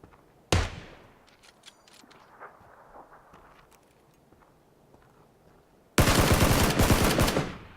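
A SCAR assault rifle fires in a PUBG battle: a loud single shot, then quieter distant clatter and footsteps, and finally a close, sustained burst of rapid automatic fire near the end.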